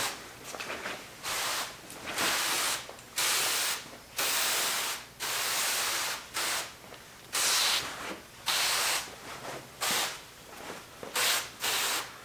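Repeated bursts of a trigger spray bottle misting rinseless wash onto a car hood, hissing in quick succession, loud and close, about a dozen pumps with brief gaps between.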